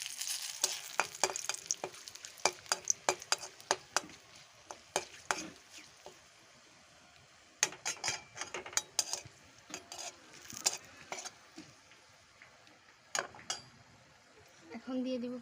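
Whole garam masala and bay leaves hit hot oil for a village-style country chicken curry, sizzling under a run of sharp metal spoon clanks and scrapes against the pot, with quieter stretches between bursts of stirring.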